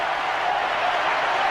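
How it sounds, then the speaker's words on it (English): A packed stadium crowd at an India vs Pakistan cricket match bursts into loud, sustained applause and cheering as a batsman reaches his fifty, a dense roar holding steady throughout. "And the crowd erupts in applause."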